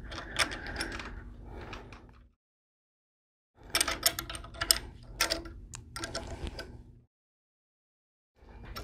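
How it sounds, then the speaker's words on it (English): A ratchet wrench clicks rapidly while loosening nuts and bolts on a vertical pump, close and crisp in two long bursts separated by silence, with a brief third burst at the end. "You want to loosen all your nuts and bolts before you begin this process."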